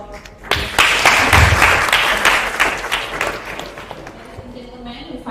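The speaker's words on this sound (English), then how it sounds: "Can I have a superb applause for" Audience at an international academic seminar breaks into loud, sustained applause that swells quickly, holds steady for several seconds and then gradually thins out, with some crowd noise mixed in.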